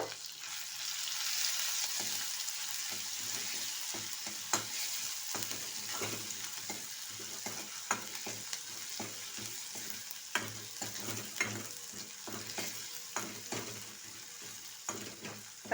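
A ground paste of ginger, green chili, garlic, peppercorns and curry leaves fries in a pan for a drumstick soup. A soft, steady sizzle runs under repeated scraping knocks of a spoon stirring the mixture.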